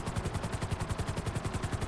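Helicopter rotor thumping steadily in GTA 5 Online, a fast regular chop with engine whine, loud and close amid game action.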